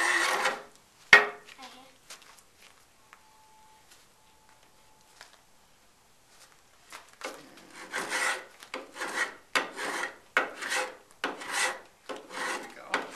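A master woodworker hand-sawing a piece of wood at a heritage park workshop: an early sharp knock, a long near-silent stretch, then a run of rhythmic rasping saw strokes, close and fairly loud.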